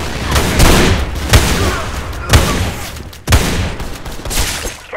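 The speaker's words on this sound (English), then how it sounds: "Grenade out! Grenade!" Gunfire and grenade blasts in the Sudden Attack 2 shooter on a supply base map: loud, repeated booming explosions at roughly one-second intervals, with dense volleys of shots between them.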